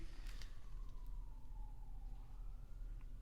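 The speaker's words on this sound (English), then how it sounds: "Sorry about the siren out there if you guys can hear that" A distant siren wails faintly outside, its pitch sliding slowly downward over a steady low rumble of background noise.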